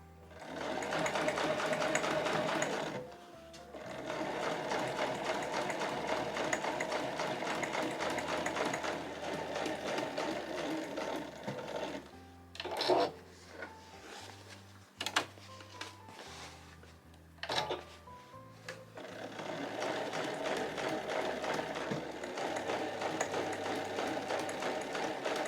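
A home sewing machine stitches heavy canvas for a Marimekko tote bag, loud and close. Bursts of rapid mechanical stitching are broken by short pauses and handling clicks, then long runs resume.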